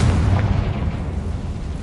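Blasting-spell explosion in Hogwarts Legacy, a loud, sustained low rumbling boom that fills the whole moment with heavy roaring bass and no pause.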